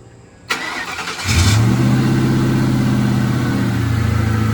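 A project car's engine cranks with a sharp starter click and whir, catches after about a second, then settles into a loud, steady, throaty idle with a slight rev, close to the microphone, no voices.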